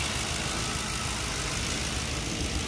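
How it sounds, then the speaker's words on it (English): A 2010 Ford Crown Victoria P71 police-package sedan idles up close, its engine giving a steady, even rumble with a broad hiss layered over it, and it runs unbroken from start to finish with no talking. "Motor sounds good."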